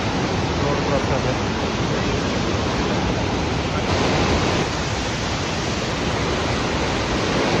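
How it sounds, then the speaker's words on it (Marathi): River water rushing strongly below a roadside point near Devkund waterfall on the trek from Pune, a dense, continuous roar that stays loud and even throughout, with no talk. "जबरदस्त असा खाली नदीतून पाण्याचा प्रवाह आहे."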